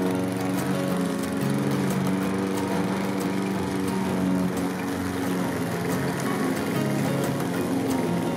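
A lawn mower runs steadily and close, mulching autumn leaves, with a continuous engine drone and scattered crunching from the cut leaves.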